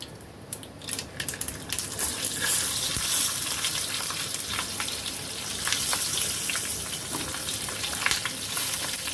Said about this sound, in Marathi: ह्या ज्या आपण मिरच्या स्टफ केल्यात त्या याच्यामध्ये घालायच्या